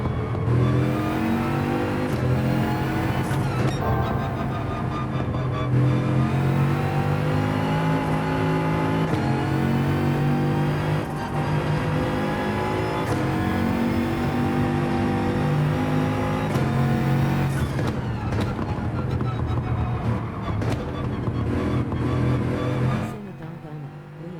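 A Bugatti racing in Gran Turismo 4 Online, its engine revving steadily with rising and falling pitch through gear changes, loud and continuous, with a voice talking faintly underneath.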